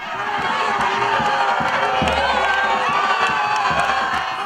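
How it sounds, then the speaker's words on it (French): Members of the Congolese community living in Côte d'Ivoire cheer as the arriving presidential couple greets them, a loud, continuous crowd roar with excited shouts and whoops layered over low rumbling chatter. "le couple présidentiel s'est offert un bain de foule avec la communauté congolaise vivant en Côte d'Ivoire"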